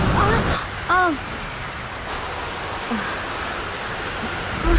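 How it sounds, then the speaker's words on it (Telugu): Steady rain hisses continuously close by, with a few brief voice-like sounds near the start and end. "ఇక్కడ బాగా వర్షం పడుతుంది."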